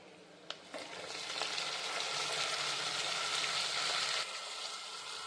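Chopped tomatoes, coriander and chilli land in a pan of fried onions, and a steady loud sizzle rises and holds for several seconds before dropping a little.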